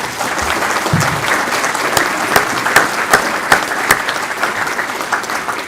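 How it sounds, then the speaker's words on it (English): Audience applause fills a public safety awards ceremony in De Pere, steady and dense throughout, with a few sharper claps standing out near the end. "How about a nice round of applause right now for those folks"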